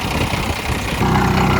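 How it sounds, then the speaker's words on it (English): A diesel vehicle engine with a leak idles close by, a loud steady low rumble with a constant mechanical drone throughout. "I'm going to cut the engine."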